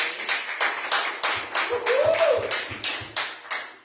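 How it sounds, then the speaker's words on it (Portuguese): Church congregation clapping during a worship service, a regular rhythmic beat of claps that swells and fades in rough pulses, with a faint voice or tone briefly in the middle. "Dê uma salva de palmas para o Senhor."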